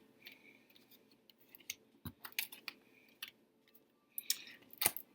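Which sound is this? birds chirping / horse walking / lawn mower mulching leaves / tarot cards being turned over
tarot cards being turned over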